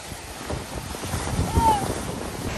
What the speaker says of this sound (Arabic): الموج قوي ما شاء الله، فعم يضرب هون.